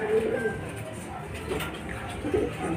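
Young racing pigeons returning to their loft after a first-lap derby race coo softly nearby, low murmuring calls mixed with a person talking.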